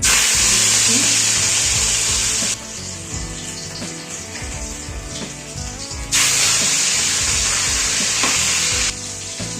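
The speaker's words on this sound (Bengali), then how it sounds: "ওদিকে মাছ ভাজা হচ্ছে" Loud, continuous sizzling of rohu fish frying in hot mustard oil, close by, swelling and easing in waves with occasional spatters and clinks.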